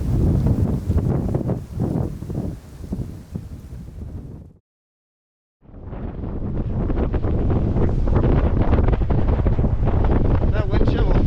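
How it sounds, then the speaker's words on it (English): Strong winter storm wind buffets the microphone with loud, roaring rumble. The gusts cut to silence briefly midway, then return as steady, heavy blowing. "That wind chill will freeze you to the bone."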